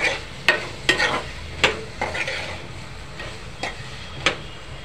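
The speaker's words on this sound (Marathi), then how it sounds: "मिक्स करून झाल्यानंतर त्यात बटाटे घाला" Potatoes tip into a spiced pan of brinjal-potato curry and get stirred, with a handful of sharp spoon-scrape clatters spaced over a soft background sizzle, close by and with no talk.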